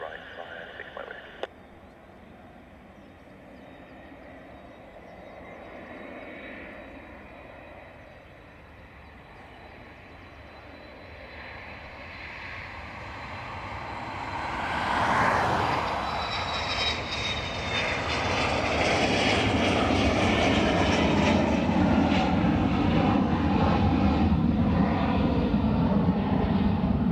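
A Ryanair airliner on the runway at Dublin Airport, its jet engines a low, distant rumble at first that builds into a loud, sustained roar as the aircraft spools up and powers away, with faint radio voices early on.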